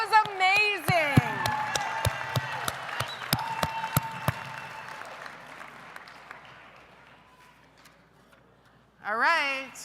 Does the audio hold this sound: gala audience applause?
yes